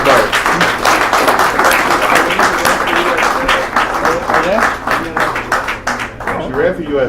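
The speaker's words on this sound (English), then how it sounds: "go ahead and give her a round of applause." An audience at a talk on mass surveillance gives a loud, lively round of applause with scattered voices and cheers mixed in, continuing throughout.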